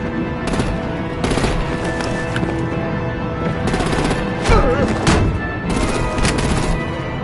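Rapid automatic artillery gunfire in the Batman Telltale Season 2 video game, loud dense bursts of shots over a constant roaring battle background, close and continuous throughout.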